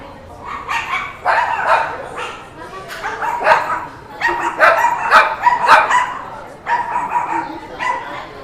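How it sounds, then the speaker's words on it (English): Several dogs bark and yip back and forth in bursts, fairly close, inside DFW Airport in Dallas, with a busy background of voices and indoor bustle. "some people's dogs don't like each other here"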